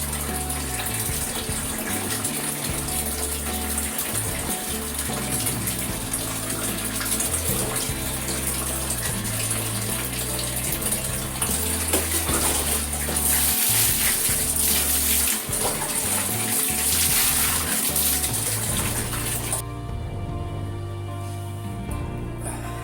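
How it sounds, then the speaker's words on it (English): Water from a morning shower runs in a steady, dense, unbroken hiss for over twenty seconds, loud and close with no voices, then drops away sharply near the end. "So take a shower every morning"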